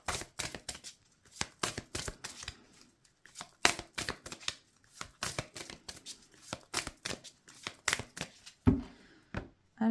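A deck of tarot cards being shuffled and cut by hand, with quick rapid riffling bursts and soft slaps repeating in an irregular rhythm, close and fairly quiet, with no talking.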